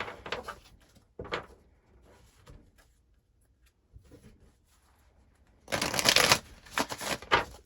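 Tarot cards are shuffled by hand in a couple of soft, riffling bursts, close and quiet at first, then a louder, denser flurry near the end, with no talking.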